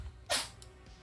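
A single short sneeze, faint and somewhere off to the side in a coal mine tunnel, standing out over a quiet background hum.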